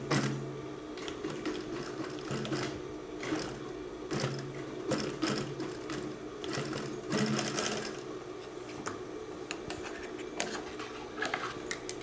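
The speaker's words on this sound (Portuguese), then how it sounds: "Estou costurando" A sewing machine fitted with a roller foot stitches synthetic material, a close rapid mechanical chatter with brief slowdowns and surges in speed, running without talk.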